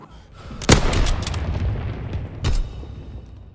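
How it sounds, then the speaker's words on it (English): Flak guns firing in a World War II video game: two sharp, heavy blasts about two seconds apart, the first louder, each trailing into a rumbling echo. "Flak guns firing, clearing the skies."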